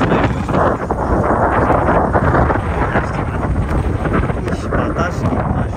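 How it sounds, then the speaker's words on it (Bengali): Strong wind buffets the microphone at a riverside beach known as mini Cox's Bazar at night, a loud continuous roaring rumble with gusty surges throughout, dominating everything else. "বাতাস দেখেন কত বাতাস, ভাই রে ভাই, কক্সবাজারের বাতাস"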